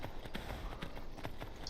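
Horse hooves in the video game Skyrim clip-clop in a quick, steady running rhythm, fairly faint and in the background.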